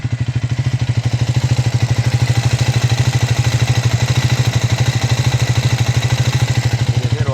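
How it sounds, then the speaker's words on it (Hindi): A Triumph 400X motorcycle engine runs steadily at idle up close, a loud, even, rapid thumping pulse with mechanical clatter that holds unchanged throughout. "मैं इंजन के पास लेके जाता हूँ, इंजन का आप नॉइस सुनिए"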